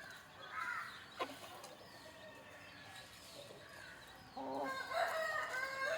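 Native country chickens cluck and a rooster crows in short harmonic bursts, once early and again louder near the end, over a quiet morning outdoor background.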